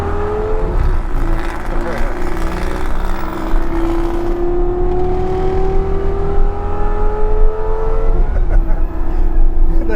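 A nearby car engine is revved hard during a street drive, its rising drone climbing in pitch for several seconds over constant road and cabin noise, with people talking inside the car.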